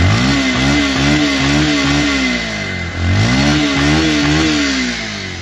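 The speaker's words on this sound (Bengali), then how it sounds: "দেখো বাইকটির সাউন্ড এবং পারফরমেন্স" A blue second-hand Bajaj Pulsar 150cc motorcycle with double disc brakes and about 3,662 km on it, revved loudly and close up in two rising-and-falling surges with a steady throbbing engine note and no voices.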